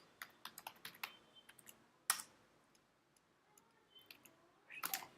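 Typing on a computer keyboard, bursts of quiet, close key clicks with a pause in the middle, one sharper keystroke, then a final quick flurry, with no talking.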